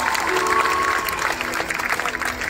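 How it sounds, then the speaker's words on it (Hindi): A crowd at a live concert in Bangalore claps loudly and continuously, with some cheering mixed into the dense applause. "एक बार उनके लिए जोरदार तालियां"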